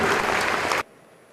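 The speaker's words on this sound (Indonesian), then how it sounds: "Tepuk tangan." Audience applause at a lecture event during Jakarta Marketing Week, a dense, loud burst of many hands clapping that cuts off abruptly after under a second, leaving quiet room tone.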